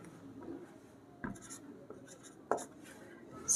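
Chalk or a marker scratches and taps on a board during a Class 10 maths lesson on arithmetic progressions. The strokes are faint and intermittent, with a few sharper taps, heard in a quiet room.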